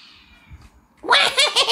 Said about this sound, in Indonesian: di luar ada kucing